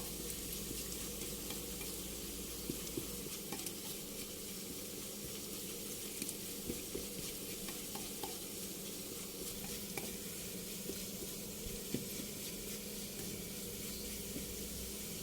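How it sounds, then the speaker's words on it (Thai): Chopped garlic fries in hot oil in a pan, a steady, close, even sizzle with faint crackles running throughout, with no voices. "เจียวกระเทียมนี่นะคะ"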